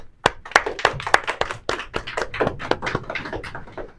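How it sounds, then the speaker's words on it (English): A small group claps for itself at a talk on cultural identity, with uneven, scattered hand claps close by that build into a loose patter over a few seconds. "Let's clap for ourselves."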